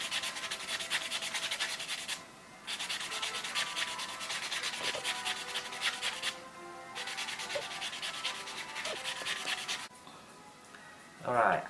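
Fingernails are buffed during an SNS dip-powder nail application, with quick repeated scratchy rubbing strokes in close bursts separated by short pauses, ending with a sharper louder scrape.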